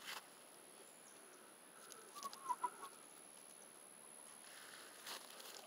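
A red brood hen clucking in a farmyard, a few soft, brief clucks clustered in the middle over a quiet background with faint insect-like hiss.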